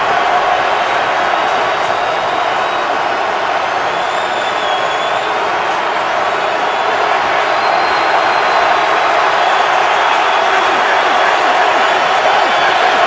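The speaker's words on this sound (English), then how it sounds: "Crowd in full throat." A packed stadium crowd at an NFL game between the Baltimore Ravens and Pittsburgh Steelers in Pittsburgh, a loud, sustained roar that holds at full volume throughout, dense and continuous with no breaks.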